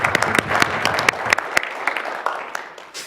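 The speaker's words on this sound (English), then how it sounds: "And I think that deserves a round of applause." Attendees at a school board of education meeting clap for two honorees, a loose applause of fairly few hands with distinct sharp claps standing out, gradually thinning toward the end.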